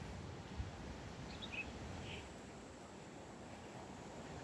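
Ocean surf rolls onto the beach at Gili Air, Lombok, a steady broadband wash with wind noise and a few faint bird chirps on top.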